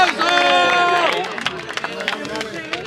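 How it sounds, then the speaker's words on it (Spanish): Rap battle crowd bursting into applause and cheers after a round, a dense clapping wash with scattered shouts, fairly loud and close, with musical tones under the opening second. "¡Fuerte el aplauso!"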